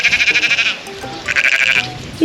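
Sheep bleating up close on a hillside at Minera near Wrexham, a series of wavering, nasal bleats in two bursts with a short pause between, loud and clear with no talking.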